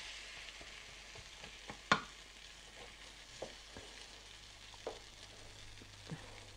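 A bread omelette fries in a pan with egg and cheese, a low steady sizzle punctuated by a few soft taps and scrapes from a spatula as it is flipped, close and quiet with no speech.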